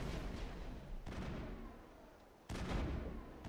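Weapon fire in the sci-fi shooter game Mass Effect: a couple of heavy, booming shots with sudden onsets, separated by a quieter gap, set against a steady rumbling game background.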